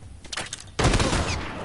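Gunfire in the video game The Last of Us opens with a few scattered shots, then breaks into a loud, dense burst of rapid fire that continues to the end.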